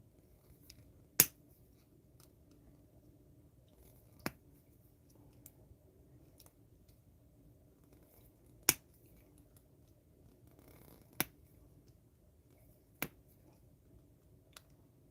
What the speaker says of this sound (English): I'm going to do this with the snips.